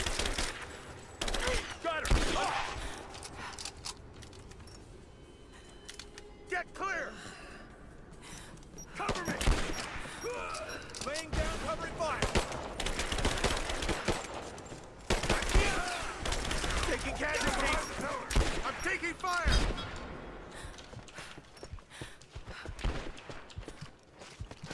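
Gunfire in the video game Rise of the Tomb Raider, bursts of rapid automatic shots and scattered single cracks over a continuous noisy battle din, with talking mixed in.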